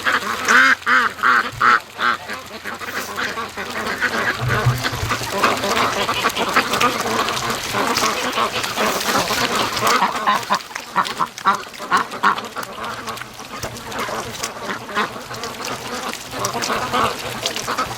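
Free-range ducks with black heads quack steadily as they move along a muddy creek, a loud and busy chorus of overlapping calls close by that runs without a break.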